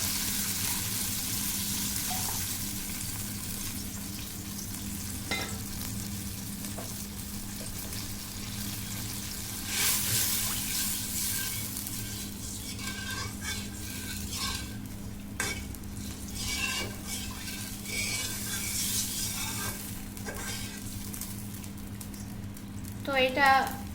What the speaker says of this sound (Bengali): তো জল দিয়ে দিচ্ছি, খুব বেশি জল দিব না